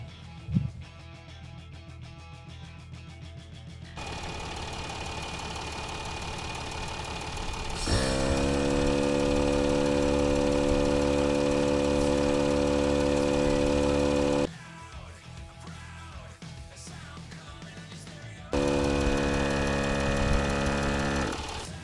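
A Bushranger Max Air III portable compressor inflates tyres from 18 to 32 psi. Its motor drones steadily and loudly in long stretches, stopping and restarting with short pauses between runs, and no one speaks.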